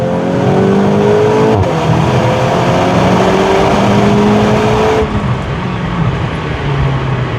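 Volkswagen Golf 8 GTI Clubsport engine revving loudly up close, pitch climbing through a couple of rising sweeps before a gear change drops it into a steady, throaty drone; no talking over it.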